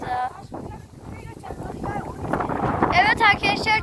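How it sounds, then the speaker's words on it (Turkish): Gusty wind buffets the microphone with broadband rumble, strongest near the end, while people talk over it outdoors. "Çok rüzgar esiyor bu"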